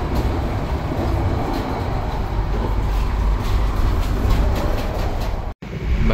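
Steady rumble inside the restaurant car of the moving KA Pandalungan passenger train, with a low continuous roar and faint rhythmic wheel clatter, alone without talk and a brief dropout near the end.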